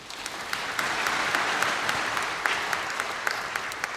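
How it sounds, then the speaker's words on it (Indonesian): A congregation applauds during a New Year church service, producing steady, moderately loud clapping from many hands with a few sharper individual claps standing out, continuing throughout. "Mari kita sambut dengan tepuk tangan."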